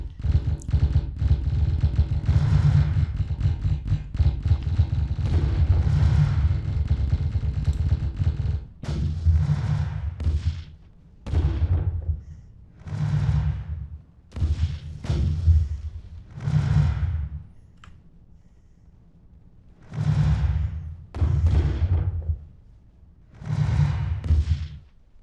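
Interceptor missiles launching at fighters in a naval point-defense video game, heard as a long dense barrage of low booming fire followed by a series of separate loud thumping bursts with short gaps between them.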